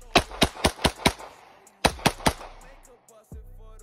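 Glock pistols, including a Glock 23 and Glock 26, fire at a shooting range: a rapid string of six sharp shots, a pause, then three more quick shots, followed by quieter sounds near the end.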